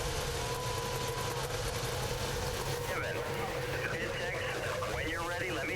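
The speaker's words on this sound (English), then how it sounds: "Drivers, start your engines." IndyCar race car engines starting and idling at the Sonoma road race, a continuous low engine rumble with occasional revving whines rising toward the end, while a voice talks over it.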